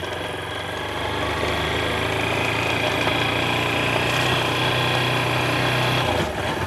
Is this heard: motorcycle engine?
yes